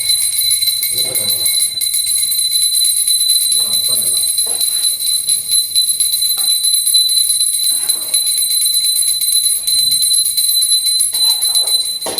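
A ritual bell rings steadily through a Ganesha festival puja at home, its bright metallic tone sustained across the whole stretch while people talk intermittently over it.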